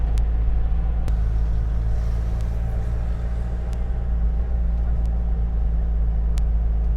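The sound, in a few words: Karachi University shuttle bus setting off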